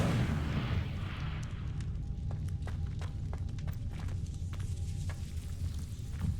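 A fire spell cast in Hogwarts Legacy, heavy rumbling bursts with crackling flame over a low, sustained roar, loud and close, with sharp snaps scattered through the second half.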